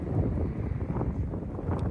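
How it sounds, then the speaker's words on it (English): Steady, heavy wind buffets the microphone with a low rumbling roar throughout, with no other sounds standing out. "It's real windy."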